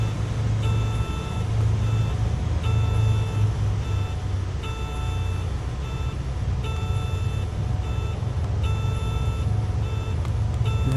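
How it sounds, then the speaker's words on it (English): Repeating electronic warning beeps from a low throttle alert in the cockpit of a Cessna 414AW in Microsoft Flight Simulator 2020, sounding in steady evenly spaced pulses over a constant low engine drone. "Okay, it's a low throttle warning."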